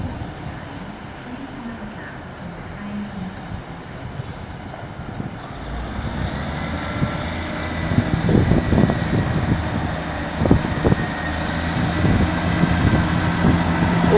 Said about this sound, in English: This is also my first proper 158 departure.